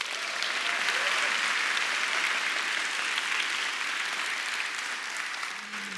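A large audience at a lecture event claps warmly in steady, dense applause to welcome a speaker onto the stage, holding strong and easing slightly near the close.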